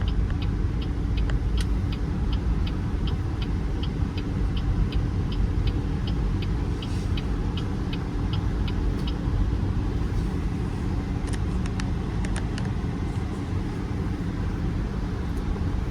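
A 2025 BYD M6 cruises in normal mode, heard from inside as a steady low road rumble and hum, with faint soft ticking clicks in places and no talking.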